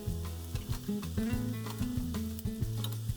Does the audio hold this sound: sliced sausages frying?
yes